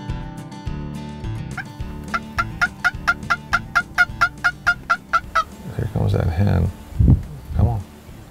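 A wild turkey hen answers with a rapid series of about a dozen evenly spaced yelps, fairly near, followed by rustling and low voices of hunters in the field.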